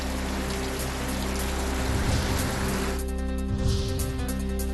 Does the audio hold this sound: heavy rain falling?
yes